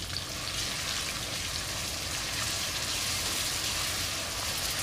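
Ginger garlic paste frying in hot oil for a dry pepper chicken curry, a steady loud crackling sizzle that holds even and unbroken throughout, with no talk.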